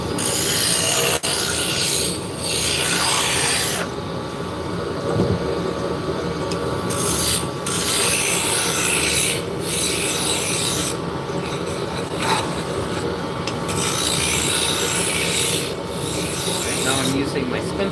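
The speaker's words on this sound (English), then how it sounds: "Now I'm using my spindle gouge just to bring it down to the final size" A spindle gouge cuts a wooden spindle taper down to size on a wood lathe. The cut makes a steady, close rasping scrape with a few short breaks and no voices.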